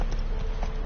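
Hooves of Geralt's horse Roach in The Witcher 3: a brief run of soft, rhythmic clip-clops, steady and close, over a low game ambience.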